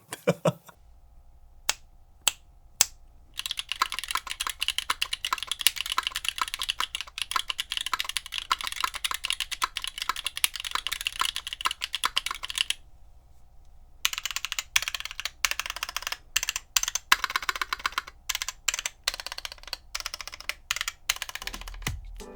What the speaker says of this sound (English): what we got instead was a loud, clacky switch